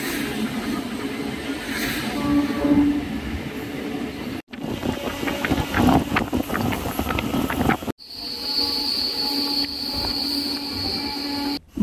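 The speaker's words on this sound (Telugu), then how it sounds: "ఉదయం 10 గంటల 35 నిమిషాలకు మన ట్రైన్ భువనగిరి చేరుకుంది" A MEMU train pulls into Bhuvanagiri station, with loud continuous rumbling of carriages and wheels over the rails, a high wheel squeal or whine in the final stretch, and a few abrupt cuts between sections.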